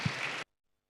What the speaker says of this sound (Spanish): Vamos a recibir con un fuerte aplauso a los niños.